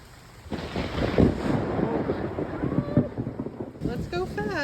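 Rain and wind roar outdoors on a homestead during egg collection, buffeting the microphone in heavy gusts, with a person speaking underneath.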